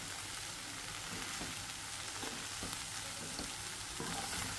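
Poha rice flakes stirred in hot oil in a pan, a steady dense sizzle with soft scraping strokes of a spoon recurring throughout, close and even in level.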